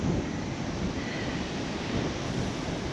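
Ocean surf rolls in on the beach as the tide rises, a loud continuous wash of breaking waves mixed with wind buffeting the microphone, with no voices.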